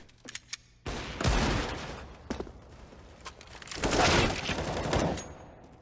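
Bursts of rifle gunfire in a Counter-Strike match on the Mirage map, with two heavy rapid volleys and a few sharp single shots between them, near and loud.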